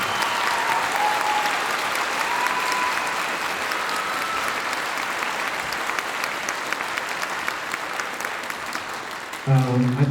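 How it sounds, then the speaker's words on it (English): An audience at a high school fall band festival gives sustained, steady applause for about ten seconds, a dense wash of many hands clapping without a break, with a voice starting to speak at the very end. "let's give our colleagues a round of applause."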